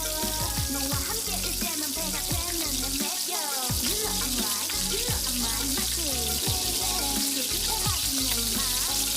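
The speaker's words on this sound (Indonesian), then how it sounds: "Kita goreng dulu guys chicken katsunya di fryer kurang lebih 5 menit aja." Chicken katsu deep-frying in a fryer gives off a dense, continuous crackling sizzle that stays loud and even from start to finish, with no talk over it.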